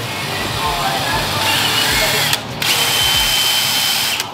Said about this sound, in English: over there drilling into wood